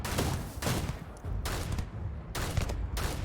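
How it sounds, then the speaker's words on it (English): Machine gun fire in the sci-fi game Starfield, loud rapid bursts in roughly four separate strings of shots, close and dominant with no talk over them. "Oh, that's my machine gun."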